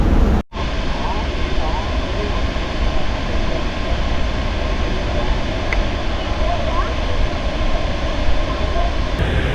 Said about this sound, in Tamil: இந்த வாட்டர் ஃபால்ஸ் ஏன் இந்தியாவின் நயகரான்னு சொல்கிறாங்கன்னா இதுதாங்க